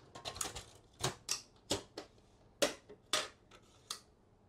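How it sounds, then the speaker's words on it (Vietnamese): Toner cartridge being fitted into an HP LaserJet P1102 printer: a series of sharp plastic clicks and clacks, close and fairly quiet, spaced irregularly over a few seconds with no talking. "bây giờ sẽ lắp hộp mực vào bên trong máy"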